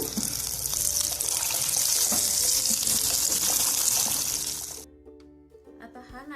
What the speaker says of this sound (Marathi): अशाच पद्धतीने बाकीचे रोल तळून घेऊ